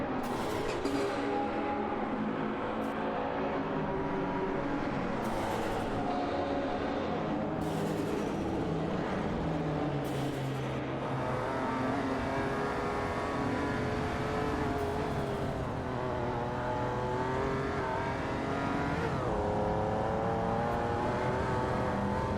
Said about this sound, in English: Porsches are putting on a good show today, but it's always exciting to see different cars competing.